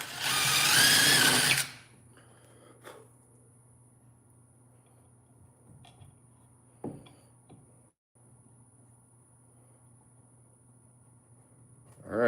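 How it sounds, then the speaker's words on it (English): A power drill whirs loudly for under two seconds drilling a test hole in wood, then stops, leaving a quiet hum with a few small clicks and taps. "I'm going to do a test because I don't want to drill into this"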